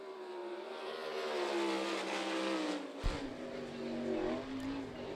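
A race car, Kyle Larson's, runs a timed lap at Lincoln Speedway in Pennsylvania, its engine a loud sustained drone that rises in pitch, dips as it lifts off, then pulls hard again.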